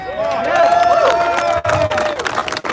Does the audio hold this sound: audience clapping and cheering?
yes